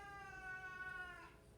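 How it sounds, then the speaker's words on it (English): A cat lets out a single drawn-out, feisty meow with a clear harmonic tone, faint and indoors, lasting just over a second and trailing off at the end. "Cat's being feisty."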